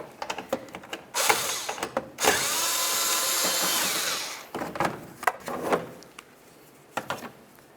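A power tool with a 10 mm socket whirs out mounting bolts on a 2006-2012 Toyota RAV4 fog light, in short bursts and one longer steady run, mixed with clanks of handling close by.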